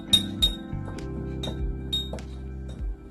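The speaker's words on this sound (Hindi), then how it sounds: "इस तमाम मसालों को मिक्स करें।" Spoon mixing ground spices, including black and white pepper, in a glass bowl for beef karahi, giving a series of bright, close clinks of metal on glass over soft background music.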